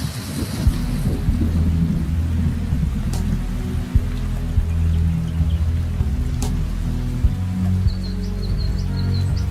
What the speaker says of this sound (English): When the rains come,